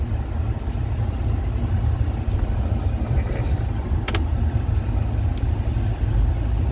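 Steady low rumble of a 2010 Ford F150 FX4 pickup truck engine idling as it backs slowly out of a driveway, loud and constant with a few faint clicks on top.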